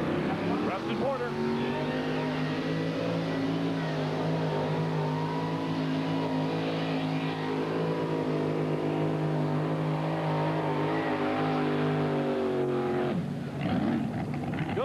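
1978 Chevy LUV pulling truck roaring at a 1991 truck pull in Chapel Hill, Tennessee, a loud sustained high-revving engine drone lasting most of the run, with an announcer talking over it.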